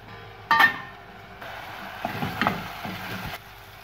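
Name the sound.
potatoes and sliced onions frying in olive oil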